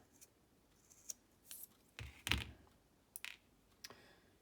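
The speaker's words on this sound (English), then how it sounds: "if I have to cut that rope" Scissors snipping through synthetic nylon paracord rope, several quiet, close, crisp cuts and clicks spread irregularly over a few seconds with no talking.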